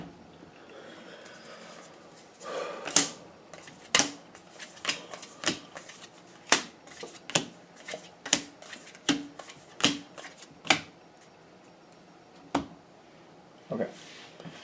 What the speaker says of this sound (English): let's get your tarot cards out here.